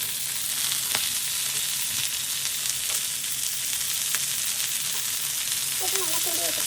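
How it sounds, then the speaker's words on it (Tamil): Mutton black pepper fry sizzles steadily in a pan, a dense continuous crackle with a few scrapes of stirring near the end, heard up close with no talk. "இதை நல்லா வறுத்து எடுத்துக்கோங்க"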